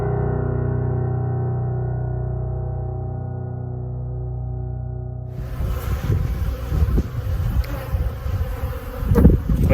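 Dense buzzing of bees swarming around storm-blown, toppled beehives, starting as a steady hum and turning into a louder, rougher swarm with gusty wind noise, close to the microphone and without talk.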